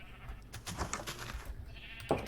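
A sheep in a Minecraft game bleats in a short wavering call, with a brief click near the end, faint and alone.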